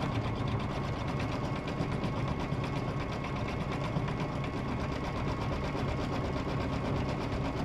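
A sewing machine steadily stitches around the outside edge of a collage pillow, tacking it down with a continuous, even mechanical whir that holds at a constant level throughout, close and alone.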